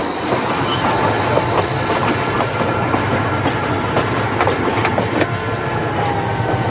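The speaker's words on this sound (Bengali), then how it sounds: "ধীর গতিতে ট্রেন হুইসেল বাজিয়ে এগিয়ে চলল সামনের দিকে" A train pulls slowly away from a station with loud, continuous rumbling and rhythmic wheel clatter close by, while a high, steady whine sounds over the first half.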